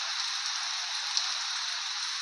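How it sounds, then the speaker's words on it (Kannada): Heavy rain pours down outside as a steady, dense hiss that holds even and unbroken throughout, with no voices. "ಮಳೆ ಬರ್ತಾ ಉಂಟು ಜೋರು, ಹೊರಗಡೆ ಜೋರು ಮಳೆ ಬರುವ ಟೈಮಲ್ಲಿ ಮಳೆ ಬರಬೇಕಲ್ವ"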